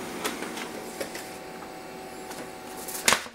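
An HP LaserJet MFP M234sdw laser printer runs a print job at close range, giving a steady low mechanical hum with soft clicks that ends in a sharp burst as the page is fed out.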